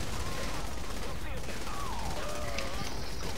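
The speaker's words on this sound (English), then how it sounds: "They're shooting at me" Enemy gunfire in the Saints Row 3 video game, a dense continuous crackle of shots over busy game noise, with voices and whistling tones overlapping.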